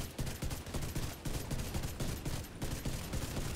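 Rapid automatic gunfire from the shooter video game The Division 2, rattling out in dense, repeated bursts with short gaps, loud and continuous throughout, with no talk.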